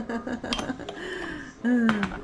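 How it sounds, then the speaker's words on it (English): A lid is worked off a container in a kitchen while cooking, with clinks and scraping of dishware and utensils, some tonal ringing, and nearby handling noises. "how do we get the lid off?"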